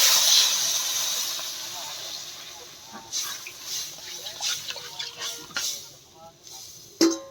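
Water poured into a hot kadai over a home stove sends up a loud, steady hiss that fades and breaks into sputtering crackles, with a sharp pop near the end.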